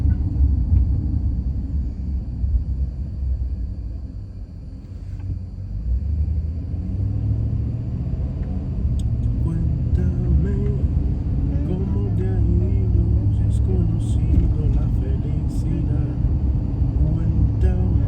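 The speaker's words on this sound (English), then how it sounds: "Big truck. Big truck." A big truck passes on a road in small-town San Felipe near Houston, Texas, a loud, sustained low rumble that swells and lingers, with speech over it.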